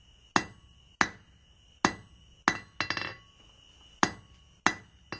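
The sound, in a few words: blacksmith hammering steel while forging a fire poker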